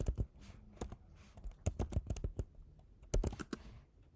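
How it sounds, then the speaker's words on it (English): Keys on a computer keyboard are pressed to enter a password, heard as a close, uneven run of sharp clicks in small bursts with short pauses between them, with no talking. "we'll just type in our host password."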